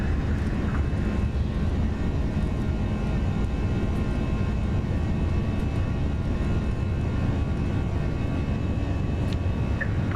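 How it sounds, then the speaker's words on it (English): Airbus A320 jet engines spooling at takeoff power in the X-Plane 11 flight simulator, a steady loud roar with low rumble holding unbroken throughout, no talk over it. "Takeoff power is set."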